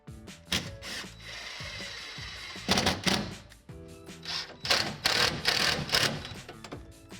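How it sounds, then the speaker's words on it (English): A power driver whines in short bursts while screws are driven into the flange of a Delta Hycroft alcove shower wall, with rattling and buzzing between runs. "as I'm putting these screws in"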